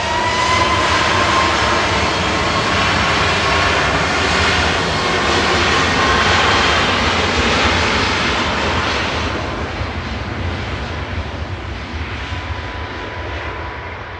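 A TUI jet operated by SmartLynx Malta departs Manchester Airport for Girona, its engines a loud, broad roar that holds steady and then slowly fades as the aircraft climbs away.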